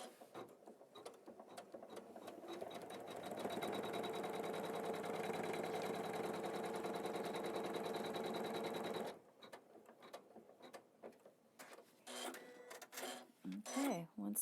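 Embroidery sewing machine stitching a design step, a steady mechanical whir and rapid needle clatter running for several seconds and then stopping, with a person talking before and after.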